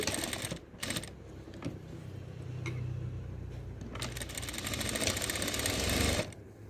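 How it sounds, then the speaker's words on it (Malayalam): A sewing machine runs steady stitches down the side seam of a frock-style nighty, a continuous quiet mechanical whir with a few brief pauses and clicks between runs. "രണ്ട് സൈഡിലത്തേനും വേണമല്ലോ, അതുകൊണ്ട് ഇപ്പുറത്തെ സൈഡും കൂടെ ഞാൻ അതുപോലെ സ്റ്റിച്ച് ചെയ്യുവാണേ."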